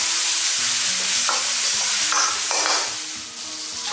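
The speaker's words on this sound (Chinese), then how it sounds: "油热之后下入姜蒜片、小米椒，给它煸炒出香味" Sliced ginger, garlic and small chili peppers sizzle and crackle in hot oil in a wok as they are stir-fried, a loud, close, continuous frying hiss with occasional scraping stirs and no voices.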